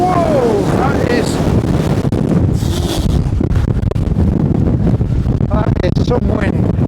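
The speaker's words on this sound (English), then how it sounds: "Whoa, that is" Strong gusts from Storm Floris batter the microphone on an exposed clifftop walk, producing a loud, constant roaring rumble as a person exclaims and talks through it.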